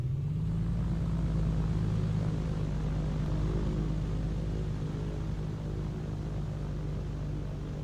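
Propeller engine of an A2A Comanche in Microsoft Flight Simulator 2024, running steadily at about 2000 RPM: a loud, continuous droning hum with a strong low tone that holds throughout, no talking.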